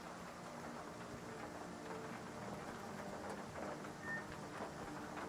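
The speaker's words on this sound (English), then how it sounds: "If you listen closely, you can hear the rain actually hitting the car there as we approach it." Rain falls on an abandoned car in S.T.A.L.K.E.R. 2, a faint, steady patter and hiss that runs without pause and without any talking.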